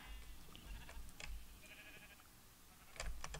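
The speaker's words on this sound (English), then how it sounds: "That sheep is on fire." A sheep in the Minecraft video game bleats in short, faint, clipped game-sound cries while burning, scattered over a few seconds among soft background game noise.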